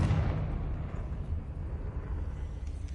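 A Confringo fire spell blasts in Hogwarts Legacy, a loud, rumbling, booming roar that stays full for about three seconds with no talking.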